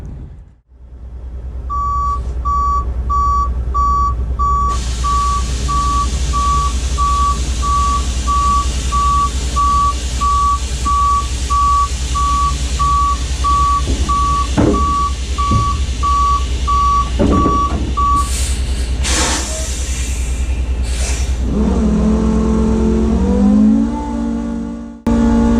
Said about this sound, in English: so I'm gonna back up here and I'll just show you how that's done.